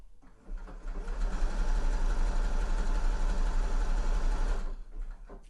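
A sewing machine stitches a fabric pocket bag to its pocket facing for a sweatshirt, running as one steady continuous whir for about four seconds after a brief start, then stopping. It is close and loud, with no talking.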